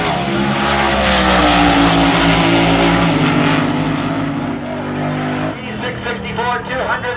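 Supercharged big block Chevrolet and Hemi drag racing cars launch side by side at Tucson Dragway, a loud sustained engine roar filling the whole stretch and easing slightly toward the end as the cars pull away.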